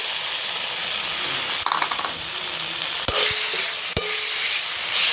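Fried potato pieces are stirred into a sizzling masala for Bengali cabbage dhokar dalna, with a steady loud fry hiss, scraping stirs and two sharp utensil clinks near the end.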